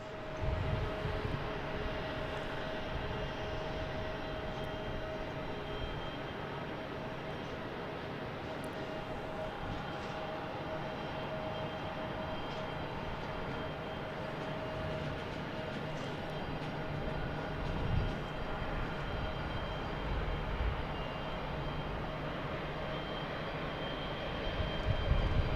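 A JetBlue Airbus A220 arriving from JFK at Boston Logan International Airport makes a continuous engine roar with a faint steady whine, holding at an even level for the whole stretch.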